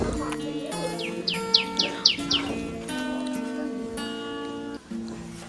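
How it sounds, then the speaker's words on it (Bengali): A songbird calls outdoors with a run of short, bright descending chirps repeated about five times, moderately close, over a steady background of tonal hum and some faint voice-like sound. "কি সুন্দর পাখিটা ডাকলো, চিউ চিউ এরকম করে"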